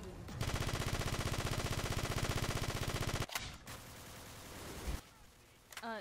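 Rapid automatic gunfire from a video game fires in a long sustained burst of tightly spaced shots, breaks off, then resumes in shorter, choppier bursts, loud and close throughout.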